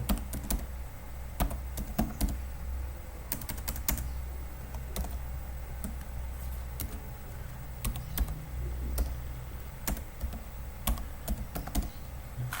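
Rapid typing on a computer keyboard as a file name is entered, a steady run of close key clicks with occasional sharper taps over a low, constant background hum.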